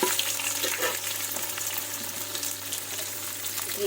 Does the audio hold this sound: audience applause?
no